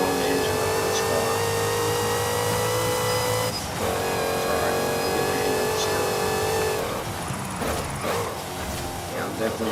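Race car engine in Forza Horizon 5 revs hard through several gears, whining up in pitch, dropping at shifts and climbing again, loud and close throughout.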